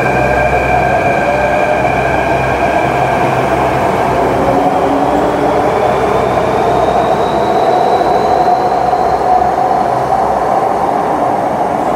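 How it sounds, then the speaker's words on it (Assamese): A Delhi underground metro train pulls out of a station near Janpath with a loud, continuous rumble and rising whine that fills the tunnel for the whole stretch, with no voices. "এয়া চব আৰু এখন মেট্ৰ' চলি গ'ল।"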